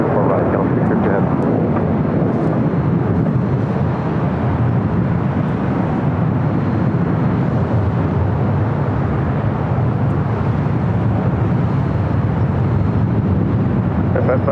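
A KLM heavy jet airliner takes off from runway 24 right at LAX with a loud, steady, broadband engine roar that holds for the whole stretch. Radio chatter from air traffic control runs underneath.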